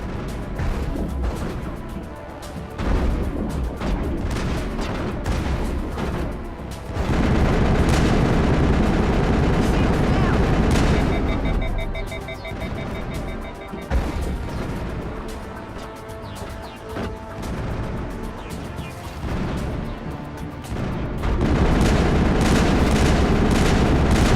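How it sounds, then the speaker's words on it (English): Bursts of assault rifle fire from the video game Mass Effect 1 crackle in loud, rapid sustained volleys with brief pauses, mixed with in-game combat effects. "let's just stick to the assault rifle"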